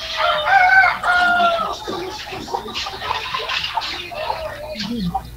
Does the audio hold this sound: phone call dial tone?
no